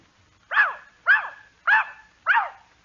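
Dog giving four evenly spaced, clear barks close up, as if counting out an answer.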